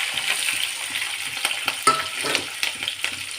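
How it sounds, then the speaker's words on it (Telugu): Green chillies and onions spit and crackle in hot oil with cumin in a pan for a drumstick and tomato curry. A close, busy sizzle is broken by short stirring scrapes and one sharp clink, with no speech. "వేసుకొని ఇవి కొంచెం ఫ్రై చేసుకోవాలి"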